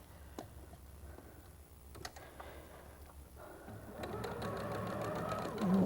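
A sewing machine stitches pieces of a pinwheel heart quilt, its rapid mechanical whirr running steadily near and close, quieter at first and then louder and denser toward the end.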